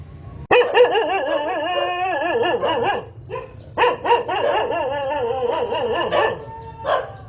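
Dog barking and howling in a long, wavering yowl, two extended bouts separated by a short pause, loud and close, heard at a market area in Vietnam.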